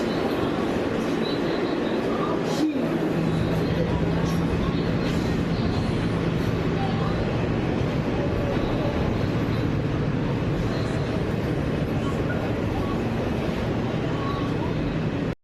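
Inside a New York subway train in motion, a steady loud rumble of wheels and car noise runs throughout with a faint squeal and one brief clunk early on.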